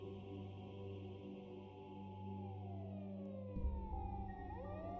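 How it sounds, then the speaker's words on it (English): Police car sirens wail in the distance, a sweeping tone gliding up and down across the whole stretch, with a low rumble entering near the end; no one speaks. "I could faintly hear police car sirens in the distance."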